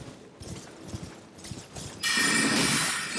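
Horse hooves clip-clop in a steady rhythm in the Elden Ring video game, moderately loud, then a broad rushing swell joins near the end.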